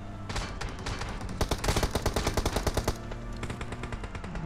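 Rapid bursts of machine gun fire from a video game, loud and close, with several rattling volleys of sharp shots in quick succession.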